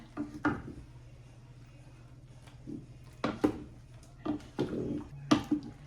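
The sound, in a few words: stirring boiling cherries in a pot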